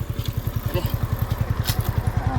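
Motorcycle engine close by with a steady, rapid thumping putter and no voices.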